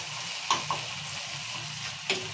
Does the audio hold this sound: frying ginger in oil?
yes